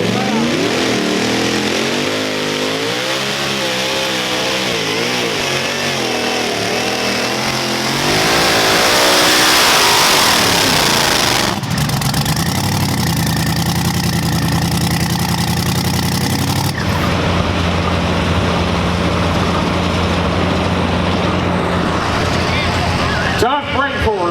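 Super modified two-wheel-drive pulling truck at a night pull in Greeneville, Tennessee, its engine roaring and revving loud and close, surging over a sustained run before dropping to a rough idle.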